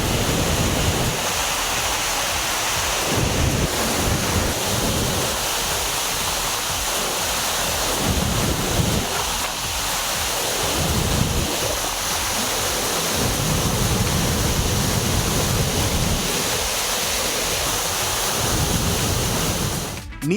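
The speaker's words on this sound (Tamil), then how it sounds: "கவியருவியில் வெள்ளப்பெருக்கு ஏற்பட்டுள்ளது" Flooded Kaviaruvi waterfall in monsoon spate, water pouring over the safety barriers with a loud, steady, unbroken roar that fills the whole scene, no voices.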